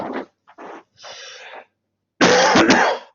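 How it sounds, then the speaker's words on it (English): A few short, throaty coughs and throat-clearing sounds close to the mic, ending in one louder, harsher cough after a brief silence. "The return of the cough."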